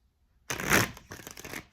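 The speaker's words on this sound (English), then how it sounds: "Let's do another shuffle." Tarot cards being shuffled by hand: a short rustling riffle after a brief silence, loudest at first, then softer flicking and sliding of the deck, close to the microphone with no talking.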